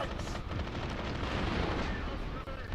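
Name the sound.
grenade explosion in Warhammer 40,000: Eternal Crusade video game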